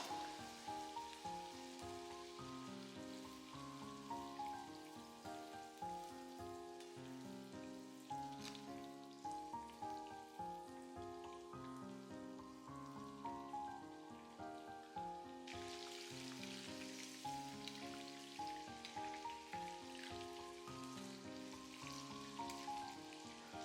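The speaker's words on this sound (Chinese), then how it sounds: "接着把裹好淀粉的茄子倒進來炸制" Starch-coated eggplant deep-frying in hot oil gives a steady, dense sizzle and crackle, close and continuous throughout with no voices.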